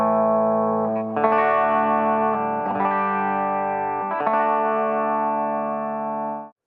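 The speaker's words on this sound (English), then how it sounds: "I'm going to play you with the bridge pickup sounds in the full magnetic mode." A Steinberger Synapse electric guitar, played through the treble bridge magnetic pickup with the piezo rolled off, rings out a sequence of sustained chords, each struck and left to ring, ending in a quick cutoff.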